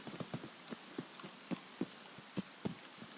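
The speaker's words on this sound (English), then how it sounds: "It's raining" Rain in the shooter game Escape From Tarkov patters irregularly, with scattered distinct drops tapping on a surface over a soft steady hiss and no voices.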